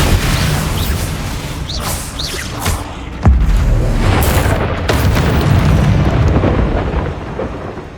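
A Bombarda blast spell in the game Hogwarts Legacy, loud booming explosions with rumbling thunder-like tails and whooshes, continuous and dense throughout.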